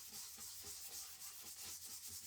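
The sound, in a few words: smoothing out chalk paste on a surface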